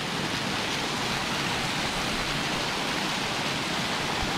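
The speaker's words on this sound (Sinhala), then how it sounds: "මෙන්න මෙතන දියල්ල පේනවනේ" Upper Gartmore Falls near Maskeliya in Sri Lanka gives off a steady, even rush of falling water, a dense hiss with no voices.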